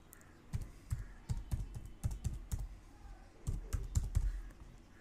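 Computer keyboard typing in short bursts of quick, close key clicks with brief pauses between, entering a domain name, no voices.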